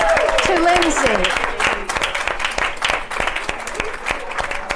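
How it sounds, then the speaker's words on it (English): Audience applause for Lindsay at an author event, many hands clapping in a lively, sustained burst while voices talk over the start. "I think we all need to give a huge round of applause to Lindsay"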